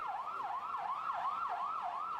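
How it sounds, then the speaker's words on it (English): Ambulance sirens wailing in a steady rising and falling cycle at a market bombing scene, heard at a moderate distance and fairly faint, with no talking. "Streams of ambulances came to carry away the dead and the injured."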